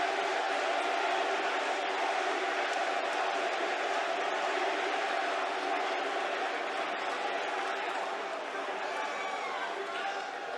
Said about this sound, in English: Listen to the greatest wrestling crowd in the world,